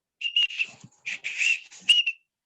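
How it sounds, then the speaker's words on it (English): A shrill whistle is blown in several short, warbling blasts, loud and close, with brief pauses between them. "and then he blew his whistle again"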